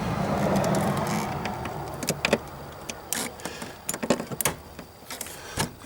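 A bolt is tightened on a Holden VE Commodore. There are faint irregular ratchet clicks and metallic ticks in quick short bursts, after a brief rustle.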